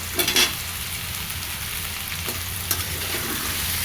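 Food frying in a pan with salt and turmeric, a steady close sizzle with a few quick spatula scrapes and taps early on, no voices.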